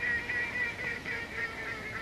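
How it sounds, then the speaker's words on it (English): Geese honk continuously in a noisy outdoor wash, a steady chorus of calls blending together at middle distance. "Yeah, Joe must hear a goose."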